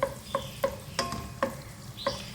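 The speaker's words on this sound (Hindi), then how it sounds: "मैश कर देंगे इसको स्पून से" Softened, peeled tomatoes are pressed and mashed with a spoon in a pan, giving a rhythmic series of about six distinct scraping taps over a soft background sizzle, with no talking.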